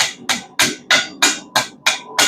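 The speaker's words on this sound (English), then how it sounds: "start working our hammer across the back, trying to get it all to bend about the same rate" A blacksmith hammers a heated steel scroll on an anvil in steady, evenly spaced blows, about eight sharp, ringing strikes in quick succession, close and loud with no talking.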